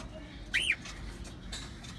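A single short, bright bird call rises and falls once over a steady low background hum, fairly close and otherwise quiet.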